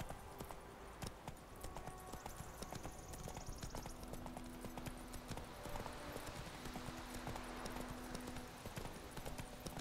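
Horse hooves clip-clop at a steady riding gait in The Witcher 3, a continuous rhythmic patter with faint background game ambience and no talk over it.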